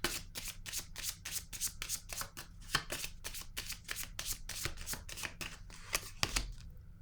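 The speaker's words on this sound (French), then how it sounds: "Je vais piger une autre carte." Tarot cards being shuffled and drawn by hand, a quick run of soft papery riffles and flicks repeating steadily for several seconds, close and fairly quiet, with no talking.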